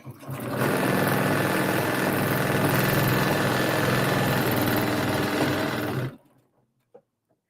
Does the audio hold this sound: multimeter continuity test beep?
no